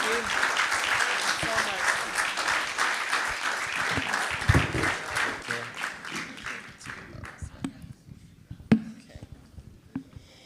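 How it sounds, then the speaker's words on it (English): Audience applause for exonerees at an annual wrongful conviction summit, a broad round of clapping that thins out into scattered individual claps, with a voice speaking over it. "Let's give them another round of applause."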